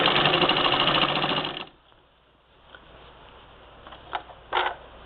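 A 1947 Singer Model 66-16 sewing machine runs fast while ruffling fabric, a loud close whirring burst for about a second and a half, then stops, followed by a few light mechanical clicks and taps.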